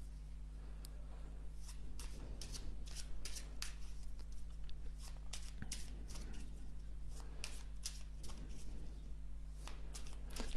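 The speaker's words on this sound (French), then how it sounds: "prenez le paquet de cartes et mélangez les cartes comme bon vous semble" A deck of playing cards is shuffled during a card trick, producing repeated soft riffling and flicking bursts over a steady low hum, with no talking.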